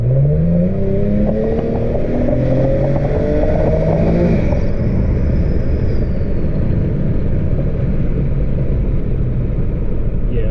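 A boosted Holden V6 car accelerates hard, its engine note rising in a loud, continuous rumble and rev that climbs steadily in pitch before settling into a dense, steady roar heard from close inside the cabin.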